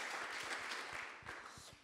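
An audience at an evening event in France applauds, a dense, steady patter of many hands clapping at close range that carries on for a couple of seconds before easing slightly.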